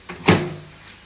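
Ivy gourds are loaded into a microwave as its door bumps shut with a single close, dull knock, followed by a faint lingering hum.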